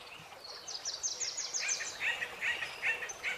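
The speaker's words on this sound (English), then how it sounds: "Some birds, some nature sounds, some crickets" Birds chirp in quick repeated bursts, with a series of bright tweets and trills, over a soft insect-like background hiss; no voices.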